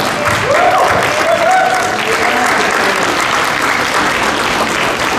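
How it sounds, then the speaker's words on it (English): A standing crowd at a Rosa Parks birthday celebration in Tuskegee applauds Mayor Ford with loud, sustained clapping, while voices briefly call out over it near the start. "Let's give Mayor Ford, our councilman, a round of applause for putting this together."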